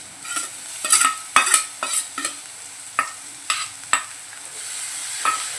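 Dry prawns being stirred into softened onion in a pan, with a spoon scraping and clacking in irregular sharp strokes over a faint, steady sizzle, close and fairly quiet.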